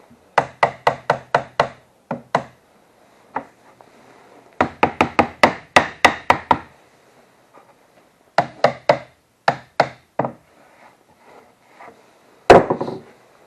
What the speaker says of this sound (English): This is an old hammer.